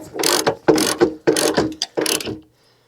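A hand ratchet tightens fasteners on a Fisher plow headlight, cranking in four loud, rapid bursts of clicking with short pauses between strokes, then stopping.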